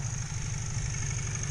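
Honda XR 125 twin motorcycle engine idling steadily just after starting, a low continuous burble with faint hiss, close by and brief.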